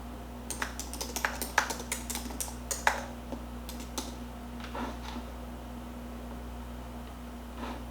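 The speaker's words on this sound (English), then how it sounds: "I'm just going to type in some of the same prompts" Rapid, irregular clicks of fingers typing on a computer keyboard, a flurry of close keystrokes that slows and thins out toward the end over a faint steady hum.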